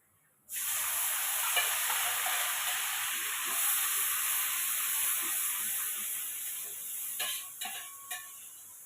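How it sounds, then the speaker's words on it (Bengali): Spice paste of coriander, chilli and turmeric powders frying in a pan, an abrupt loud hiss that settles into a continuous close sizzle, with a few stirring scrapes near the end and no speech. "তা মশলাটা আমি কষাচ্ছি"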